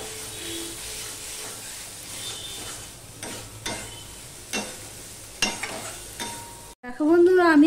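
Knobby taro root pieces fry in spice paste over medium-low heat, a steady sizzle broken by repeated scraping stirs and spatula knocks, ending in a sharper burst of louder activity.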